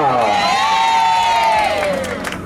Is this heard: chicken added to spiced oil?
no